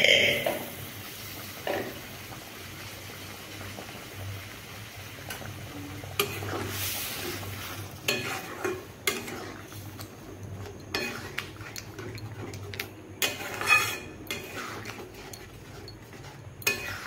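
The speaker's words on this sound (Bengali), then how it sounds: "এটি আমার বেশ ফুটতে শুরু করেছে।" Rajma (kidney beans) cooking in water in a pot, making soft, faint bubbling and simmering sounds with occasional spoon stirs and clinks against the pot.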